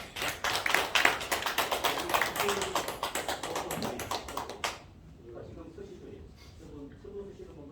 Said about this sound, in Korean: 박수를 주십시오